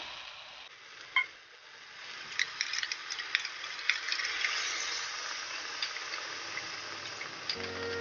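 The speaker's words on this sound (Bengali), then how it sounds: "তো আমি বাটিটা ধুয়ে জলটা দিয়ে দিচ্ছি।" Water from rinsing a mustard bowl poured into a hot pan, a rising hiss and sizzle that swells and holds steady after a brief clink, close by, no talking.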